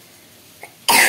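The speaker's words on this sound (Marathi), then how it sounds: "खोकला येते." A child gives a single sharp, loud cough at close range, preceded by a faint small throat sound in an otherwise quiet room.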